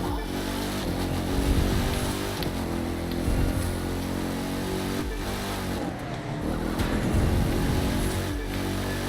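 A Dodge Demon's engine revs loudly and steadily in The Crew 2 racing game, a thick, continuous growl that swells in a few brief surges with no talking over it.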